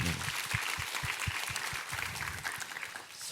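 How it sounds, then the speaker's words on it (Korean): A church congregation claps for a chamber ensemble after a worship performance, with quick, even hand claps at moderate distance. "감사와 격려의 박수 드리도록 하겠습니다"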